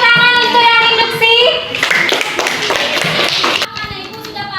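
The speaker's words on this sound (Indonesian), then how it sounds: "beri tepuk tangan untuk yang induksi" Children clapping together in a primary school classroom, a dense burst of many small hands applauding near and loud, with kids' voices chattering and calling over and after it.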